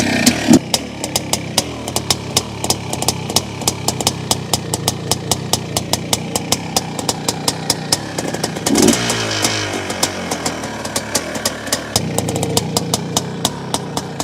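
A 1982 Kawasaki KDX450 two-stroke motorcycle engine runs close by, a loud rapid crackling putter with regular sharp pops and a brief rev swell midway, alone without talk.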